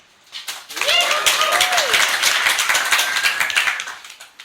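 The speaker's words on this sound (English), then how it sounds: "Round of applause for our comedians of that." Audience at a comedy competition in the International Bar on Wicklow Street claps steadily for about four seconds, with whoops and cheers rising through the dense, fairly loud clapping before it fades.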